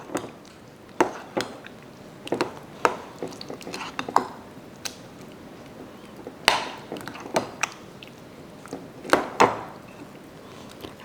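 Corn souffle batter with butter pieces being mixed with a large spoon in a bowl, giving repeated scraping, clacking strokes against the bowl at an uneven rhythm, close and moderately loud.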